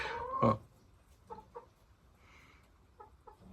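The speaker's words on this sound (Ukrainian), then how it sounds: "Ну, була б гарна курочка." Crested hens give a few soft, scattered clucks, one louder call at the start and then faint short clucks at intervals against a quiet background.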